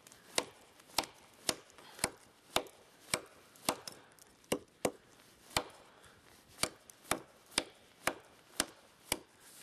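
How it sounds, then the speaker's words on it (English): Repeated sharp chops of blades into a large piece of wood outdoors in snow, about two strikes per second in a steady rhythm, crisp and fairly close, with no talking. "it's kind of a ridiculous sized piece that I'm chopping right now, but kind of just testing these blades"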